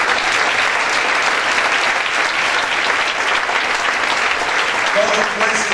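A church congregation applauds steadily and loudly throughout, a dense continuous wash of clapping with no pauses.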